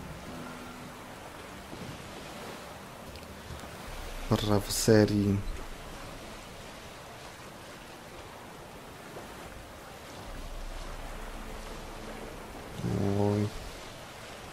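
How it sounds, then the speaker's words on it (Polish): Boat gliding across water in The Witcher 3, with a steady wash of waves and lapping surf throughout and brief louder splashes; someone talks over it in two short bursts. "Łódka płynie, wszystko fajnie."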